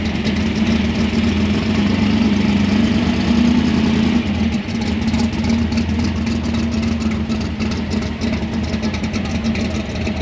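A hot rod car engine idles steadily at close range while the car is backed in at a swap meet, a loud, even low rumble with a slight change in tone midway and no speech.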